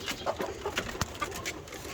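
Farm chickens cluck softly in short, scattered calls, faint and somewhat distant over a low rustling background.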